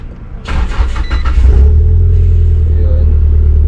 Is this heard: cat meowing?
no